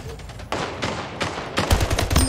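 Weapon fire in a first-person shooter match, with the player's rocket launcher among the shots. A run of loud, sharp gunfire-like bursts, denser and heavier in the second half, with no talk over it.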